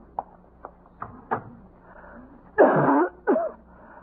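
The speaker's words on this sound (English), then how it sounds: "Quite a cough" A few short, dry coughs and throat sounds, then a harsher, louder cough burst near the end, fairly close and alone.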